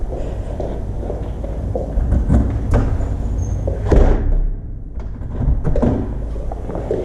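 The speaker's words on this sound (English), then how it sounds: "I'm gonna close this door" A door being closed inside a house, with a sliding, rattling knock amid shuffling footsteps and handling noises, fairly close and without talk.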